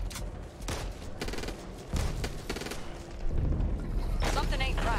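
Shotgun blasts in the PC zombie shooter Back 4 Blood ring out several times in irregular bursts over busy game noise, with other gunfire and effects mixed in.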